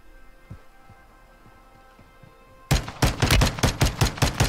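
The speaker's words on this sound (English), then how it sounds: "who is shooting me, bro?" Rapid gunfire erupts suddenly in the Warzone video game after a quiet stretch of faint ticking, becoming a loud, close burst of repeated sharp shots in a quick, slightly uneven rhythm.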